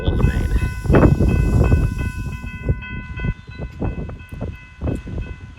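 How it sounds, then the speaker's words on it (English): Freight train locomotives on a Wisconsin and Southern main line reversing to couple onto new hoppers, a steady low rumble of engines with clanking, thumping impacts and a faint high whine, fairly close and loud. "allowing the locomotives to reverse these new hoppers and couple them onto the rest of the train"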